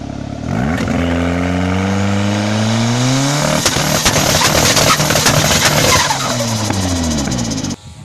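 An Audi A4 1.8T engine with bolt-on upgrades revs up loud and close as the pitch climbs, holds a raspy high rev with crackling bursts and turbo flutter, then falls away and cuts off.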